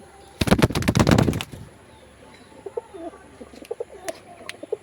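Pet pigeons of a prized breed kept in a loft: a loud burst of rapid flapping or clattering opens, then soft, intermittent cooing calls follow at moderate distance.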